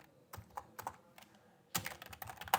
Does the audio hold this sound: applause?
no